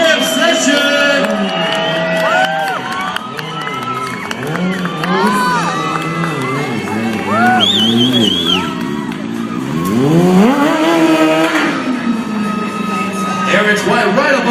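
A stunt motorcycle revs and whines through rising and falling engine sweeps as the rider balances on the front wheel during an XTL Street Jam show at the Progressive Phoenix International Motorcycle Show, under a loud, cheering crowd and an announcer.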